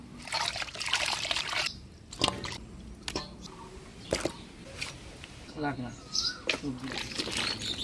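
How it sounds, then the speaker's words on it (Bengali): Cut chela sea fish is rinsed by hand in water, giving irregular splashes, trickles and squishy handling sounds that come and go close up. "তো মাছটা কাটাই আছে, ধুয়ে নিই"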